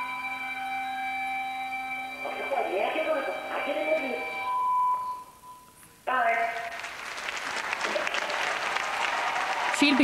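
Audience applause at a professional Latin dance competition in Innsbruck, a dense, steady wash of clapping that carries on under sustained music tones and a commentator's voice, dips briefly, then surges back loud.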